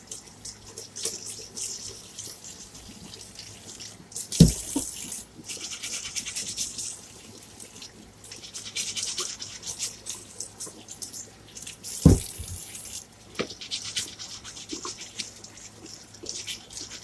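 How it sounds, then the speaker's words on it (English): Potatoes scrubbed with a dedicated stiff brush under warm running water at a kitchen sink: a steady close faucet stream with rhythmic bristle scrubbing over it and two brief louder knocks, no talking. "I'm just going to scrub in warm water"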